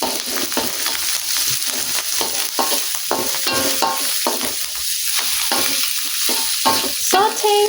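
A tablespoon each of garlic and ginger sizzles and fries in a pan, with a steady crackling hiss broken by repeated scraping stirs, close and fairly loud, with no talking.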